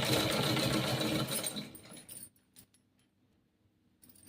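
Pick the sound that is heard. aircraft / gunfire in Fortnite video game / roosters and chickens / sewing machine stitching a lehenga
sewing machine stitching a lehenga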